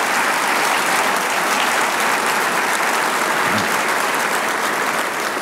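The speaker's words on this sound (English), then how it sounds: "Let's give all of those folks a round of applause." A sustained round of applause from a large audience at a formal ball keynote, dense and even clapping filling the whole stretch, loud and without any speech on top.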